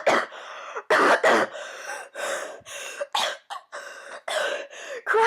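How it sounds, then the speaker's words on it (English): A woman chokes and coughs after inhaling gas, a rapid series of harsh, close, loud coughs and throat-clearing gasps in an uneven rhythm, with brief breaths between bursts. "She choked and coughed, rolling out of the little enclosure"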